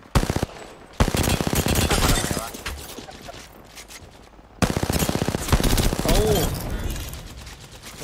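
Rapid bursts of automatic fire from a golden gun in a video game, loud and close, coming in two long sustained volleys separated by a quieter gap, with a voice talking over the shooting.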